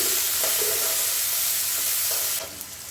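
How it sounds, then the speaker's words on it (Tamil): Sliced onions and green chilies sauté in a hot pan for rava kichadi, giving a loud, continuous sizzle and crackle that drops to a softer hiss near the end. "இப்போ வெங்காயம் வதக்கிட்டு வெங்காயம், பச்சை மிளகாய் ரெண்டு சேர்த்து போட்டுட்டேன். நல்லா வதங்கணும்."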